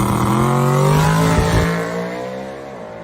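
A drag race car at the World Cup event roars at full throttle with a loud, deep, steady engine note, then fades as it pulls away down the track.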